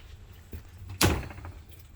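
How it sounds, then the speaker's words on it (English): A school bus door swings shut with a single solid thunk, close by and fairly loud, after a softer click, with no voices. "Now I'm gonna close the door."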